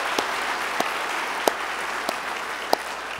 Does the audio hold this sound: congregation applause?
yes